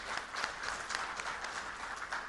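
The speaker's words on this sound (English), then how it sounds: "I think they deserve a big round of applause for that." Moderately distant applause fills an agriculture technology event hall at the Novotel, a steady patter of many hands clapping with slight swells, and no voices over it.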